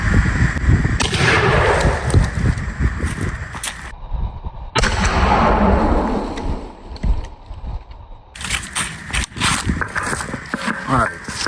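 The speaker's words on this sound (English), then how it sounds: "So I have target set up, we'll go ahead and take a shot at it." A shotgun loaded with 6 shot shells fires at a paper target outdoors, each shot a sharp, loud blast followed by a short echo, with someone talking around the shots.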